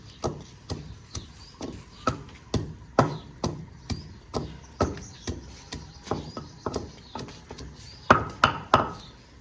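Spices pounded in a mortar for a chicken wrap masala, giving a steady series of dull, close thuds at an even rhythm, with a few harder strikes near the end and no talking.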